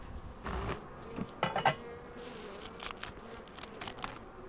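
Honey bees from a colony nested in a chimney buzz faintly in scattered passes, with a few louder close bursts near the start and quieter drones later on.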